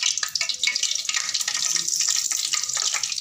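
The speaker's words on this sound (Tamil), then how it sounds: "கடுகு நல்லா பொரியுது." Mustard seeds spluttering in hot sesame oil for a Tamil dried anchovy curry, a dense continuous hiss of rapid crackles and pops, steady and close throughout.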